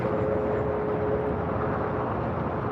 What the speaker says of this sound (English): This is that Delta A330 Neo coming in from Tokyo Haneda